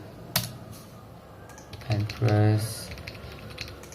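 A computer keyboard typed on close by, a brief cluster of fast, crisp key clicks, with someone speaking over the keystrokes.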